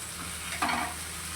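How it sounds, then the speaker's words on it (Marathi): Okra (bhindi) frying on a tawa until crispy gives a soft, steady sizzle, with a brief louder stir of the pieces in the middle. "आणि जस्ट तिला नुसती फ्राय करायची थोडी क्रिस्पी करायची"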